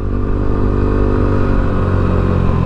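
Yamaha NMAX V2 scooter engine fitted with an RS8 DC8 exhaust pipe, a loud, close, deep bassy idle with a steady rumbling throb that barely varies.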